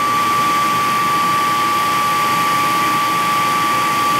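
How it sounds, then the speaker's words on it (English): A Comgrow smoke purifier and air pump for a 3D printer both run at full power, giving a loud, steady broadband whoosh with a constant tonal whine, unbroken for the whole stretch and with no talking. "And I'm gonna turn on my air pump here."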